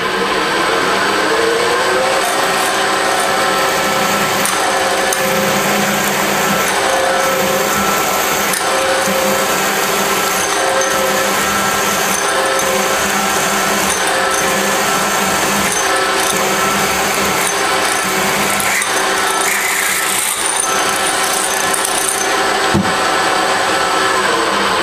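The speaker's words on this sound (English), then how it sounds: "I'm going to drill a 3/8 hole" A drill boring a 3/8 inch hole in a workpiece clamped in a vise, a continuous loud motor whine with steady cutting noise that holds level for the whole stretch.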